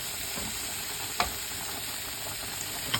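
Spiced chicken carbonara with spaghetti frying in a pan gives a steady, close sizzle and hiss throughout, broken by a few faint clicks of a utensil.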